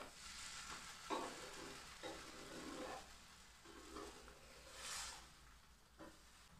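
Rava roast fries on a pan after being flipped, giving a faint, soft sizzle with gentle scraping and crackling pulses at irregular intervals.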